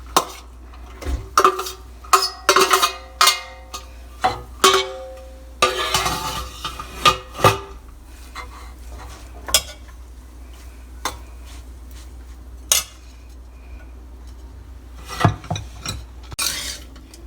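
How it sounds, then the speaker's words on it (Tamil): A spoon stirs cooked rice through a lemon rice mixture in a pan, giving repeated close scraping and rasping strokes in irregular bursts, with quieter pauses between. "ஈவனாக கிளறிக்கணும்."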